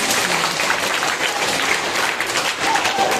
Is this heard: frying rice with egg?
no